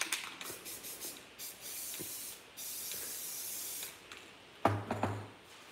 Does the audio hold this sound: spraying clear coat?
yes